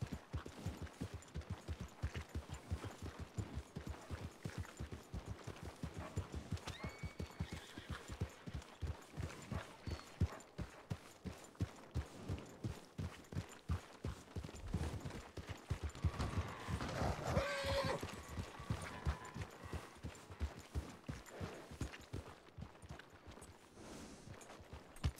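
Rapid hoof clip-clops in a Western game patter steadily for a long stretch, with a brief horse whinny rising around the middle.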